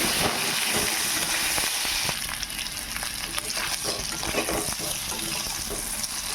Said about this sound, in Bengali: আবার কড়াইয়ে অল্প হলুদ দিয়ে আলুগুলো ভেজে নেব